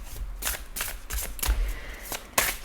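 Small oracle cards are laid down and handled on a table, producing close, quick papery slaps and swishes in uneven bursts with no voices.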